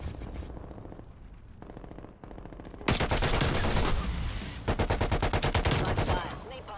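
Bursts of gunfire from a shooter video game, with sparse shots early on, then a loud, dense automatic barrage, a short lull, and another rapid volley close and sharp.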